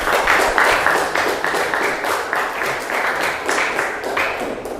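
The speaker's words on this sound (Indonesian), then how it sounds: "Tepuk tangan." A group claps after a classroom presentation, steady close applause with distinct individual claps running throughout, loud and unbroken.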